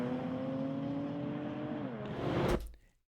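A Jaguar Project 8 accelerates hard with a rising engine note that shifts in pitch, builds, then cuts off abruptly after a brief loud burst near the end.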